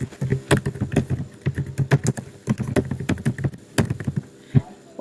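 HTML code is typed on a computer keyboard in quick bursts of crisp, close key clicks with short pauses between runs, steady and fairly loud, with no speech.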